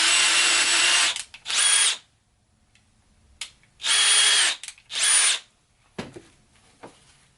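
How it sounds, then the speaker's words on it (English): Cordless drill driving screws into wood, several short bursts of high whirring, each a second or so long, separated by pauses and light clicks of handling, close and fairly loud. "put in a couple of screws, or drill a couple holes, put in some screws"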